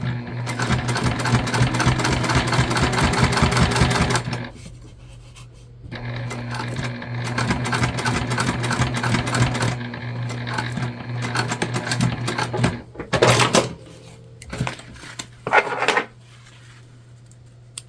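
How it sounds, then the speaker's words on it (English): A sewing machine top-stitches a key fob wallet 1/8 inch from the edge, running in loud steady bursts with brief pauses and a few clicks, near and without talk. "we're sewing this together in real time, you guys, so that you can see just how fast it is to make one"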